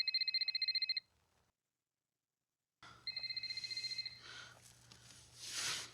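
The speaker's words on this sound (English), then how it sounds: "that's going to be Mike's cell phone" An old Nokia mobile phone rings in a film scene, a rapid electronic trill repeating in short bursts, stopping, then starting again with some muffled background noise.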